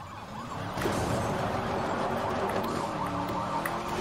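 Police sirens wail continuously during a high-level chase in the 2012 Need for Speed Most Wanted game, loud and steady with overlapping wavering tones and no talk.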